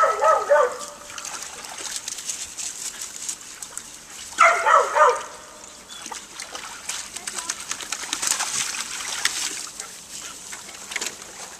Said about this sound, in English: Go get in the water.